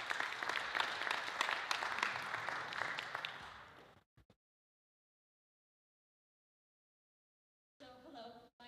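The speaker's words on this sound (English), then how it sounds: "we give her a round of applause" A crowd claps steadily for a few seconds, then the applause fades to silence before a brief return of sound at the end.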